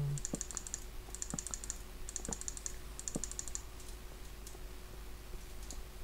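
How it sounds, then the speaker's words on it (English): Rapid mouse clicks while repeaters are placed in the Minecraft video game, arriving in four short trains of crisp clicks over steady background hiss, with no talking. "Well, that's a lot of clicking."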